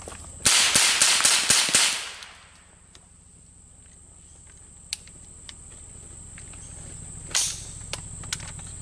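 An M4-style BB gun firing a rapid string of about seven sharp, loud snapping shots close by, then quiet apart from a couple of isolated single shots and a short later burst.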